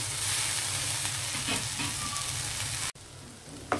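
Capsicum and tomato pieces sizzle steadily in a hot pan while being cooked down for a roti pachadi, a dense continuous frying hiss with occasional stirring scrapes, briefly cut off near the end.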